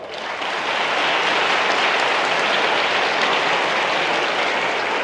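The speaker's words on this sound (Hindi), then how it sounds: "अपने नाम की जोरदार ताली बजाओ" Children clapping loudly together at a motivational talk, a dense roaring burst of applause that swells in and holds strong and steady without talk.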